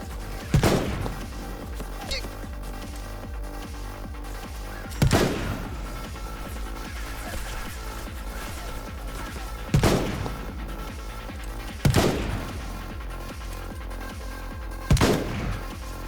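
Sniper rifle fire in Final Fantasy XV: single heavy, booming shots spaced several seconds apart, each with a ringing tail, over a constant bed of game ambience and music.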